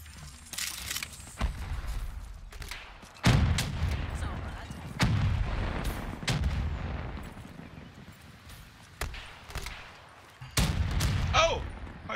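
Weapon fire in the video game Call of Duty Black Ops 3: repeated sharp gunshot bursts with loud, booming reports spread across the clip, some clustered in rapid volleys, with no talking.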